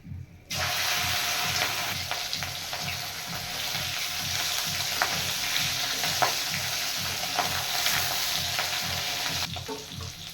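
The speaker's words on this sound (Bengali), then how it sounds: "ডিমগুলো ভাজা হয়ে গেছে এবার আমি এগুলো নামিয়ে দেব" Rohu fish roe frying in a pan: a loud, continuous sizzle and crackle that runs almost unbroken for several seconds after starting abruptly, with faint stirring knocks.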